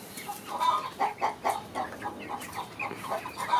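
A rooster and a hen from a farmyard breeding pen cluck softly in a quiet series of short, uneven calls, close by with no talking.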